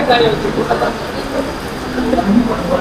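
A Mumbai local train pulling into the station in heavy monsoon rain, a loud steady rumble and rail noise with brief squeals and birds, voices talking nearby.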